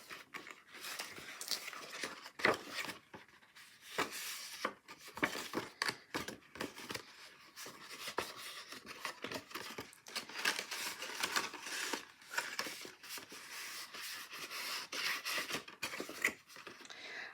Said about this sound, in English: we're just going to fold everything down along those score lines